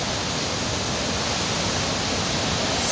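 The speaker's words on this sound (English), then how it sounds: "Actually, the water is falling so furiously and so fast." Large waterfall in Kumrat valley, Dir, Pakistan, a dense, steady roar of falling water, loud and close, filling the whole clip with no breaks or voices.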